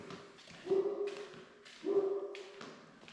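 A dog barks twice, muffled and somewhat distant, inside a house under construction, with a short pause between barks and quiet room noise around them.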